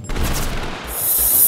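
Gunfire in the video game TABG comes as a short burst of close, punchy shots with a booming low end, followed by a fading hiss.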